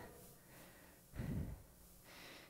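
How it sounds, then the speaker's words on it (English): A person breathes heavily while holding a side plank during a cardio and core workout, one loud forceful exhale standing out amid softer rhythmic breaths, close to the microphone. "You'll probably be able to hear me breathing on here."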